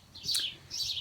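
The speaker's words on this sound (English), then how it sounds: "Those birds are just going crazy." Outdoor birds chirping and tweeting in two bright bursts of calls, fairly close and lively, with no talking over them on a midsummer day at a homespun house.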